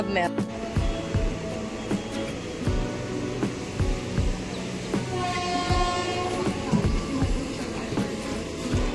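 A Mumbai local train rumbles past close by, with rhythmic wheel clatter and metallic rail squeal, loud and continuous, while a voice briefly talks over it.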